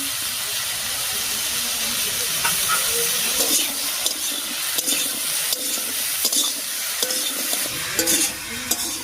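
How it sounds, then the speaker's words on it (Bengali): Ash gourd is stirred with salt and turmeric in a pan, giving a steady loud sizzle and hiss with repeated scraping and clinking of a spatula against the pan throughout. "লবণ হলুদ দিয়ে চাল কুমড়োটা খুব ভালো করে মিশিয়ে নিয়েছি"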